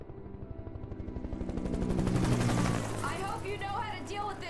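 A helicopter's rotor thumps and swells to a loud roar in the video game Alan Wake, with bursts of gunfire and chattering mechanical noise as it passes, then fades slightly.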